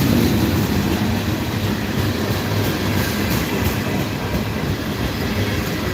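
Freight cars roll past at night in Ooltewah, Tennessee, a steady close rumble of wheels on rail that holds at an even loudness throughout, with no voices.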